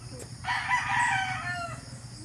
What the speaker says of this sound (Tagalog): Sino magpakain niya ng manok dyan, Mike?